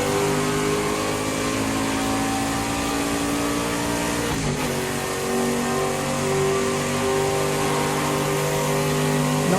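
A Prototype C race car in Project CARS 2 drones loudly and steadily, its engine note holding under heavy throttle with a brief dip around the middle as the revs shift.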